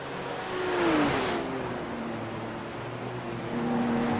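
A Porsche GTD race car in a Bathurst sim race holds a steady engine drone, with a whining pitch dipping and rising as it runs, continuous and moderately loud with no talk.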